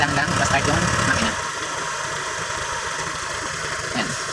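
Honda Click 125 scooter engine running at a steady idle during a coolant change, a close, even mid-pitched hum with slight vibration, with someone talking over it.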